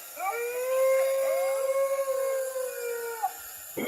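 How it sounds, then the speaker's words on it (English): Dingoes howl in a long, wavering, layered chorus of rising and sustained tones lasting several seconds, moderately loud and without speech. "There's the dingoes howling."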